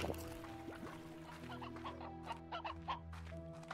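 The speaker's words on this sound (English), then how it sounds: "There's a lot of chickens in this area." Chickens cluck in the farming video game Slime Rancher, a soft cluster of short, overlapping clucks and calls over a steady low game background, with no talking.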